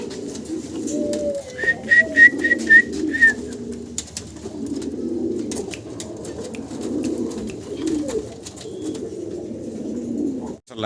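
Fancy pigeons coo in low, rolling murmurs throughout, close and continuous, with a short burst of high whistling chirps near the start.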